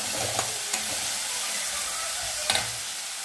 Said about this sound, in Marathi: टोमॅटो प्युरी छान तेल सुटेपर्यंत आपण भाजून घेणार आहोत।